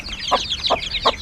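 A white hen clucks near her chicks, three short clucks spaced evenly over a steady backdrop of high peeping, all close by with no talk.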